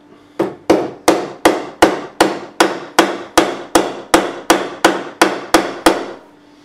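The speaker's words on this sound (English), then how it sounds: "I'll just get the hammer." Fret wire being hammered into the neck of a Yamaha CPX-5S Compass Series acoustic guitar during a re-fret, fourteen sharp, evenly spaced metallic taps, close and loud, each ringing out briefly with no talking.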